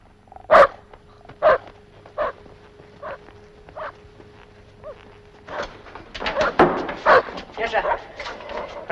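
A dog barks in a series of sharp, spaced barks near by, followed by a busier stretch of barking mixed with a voice speaking.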